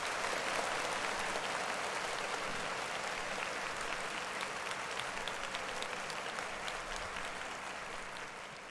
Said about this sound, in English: We're gonna clap it up for them because they sound hard.